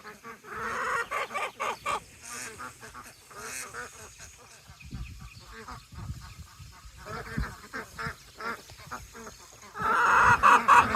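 Naked neck turken chickens in a coop, clucking and squawking busily in overlapping bursts, fairly close, with a louder flurry of calls near the end.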